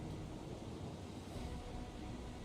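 Train in the Final Fantasy XIV video game, a steady rumbling roll of rail noise that fills the scene at moderate loudness with no voices over it.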